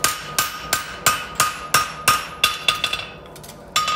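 Hammer blows ring off a horseshoe heel on an anvil while the heel is bent into a radius, about a dozen sharp metallic strikes in a steady rhythm, close and loud, with a short pause before a final hit.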